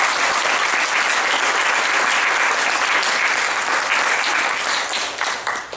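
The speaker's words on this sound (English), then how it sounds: "And for that, we applaud you." A hall audience applauds the graduates at an MFA thesis reading, a dense, steady wash of many hands clapping close by that holds strong for several seconds before starting to thin toward the end.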